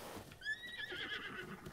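A horse in Zelda: Breath of the Wild gives a single faint, wavering whinny that rises and trails off, with soft hoof clip-clop and game ambience underneath and no voices.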